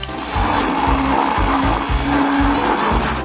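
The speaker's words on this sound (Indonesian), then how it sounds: "1 sendok es krim dalam blender dan sedikit mustard sudah cukup." A blender whirs steadily while mixing ice cream with a little mustard, its loud motor drone pulsing in a regular rhythm and running nonstop, close by with no voices.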